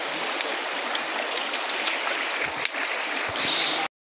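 River water flowing steadily nearby, a dense continuous rush with a few small splashes and knocks, loud and close until it cuts off abruptly at the end.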